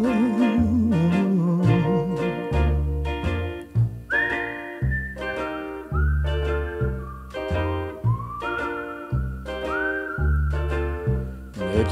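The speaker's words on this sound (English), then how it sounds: "It's a whistling tune for walking in the night." A melodic whistled tune carries the lead in a 1961 song, the sustained whistle notes gliding above a steady band accompaniment with bass and rhythmic backing throughout.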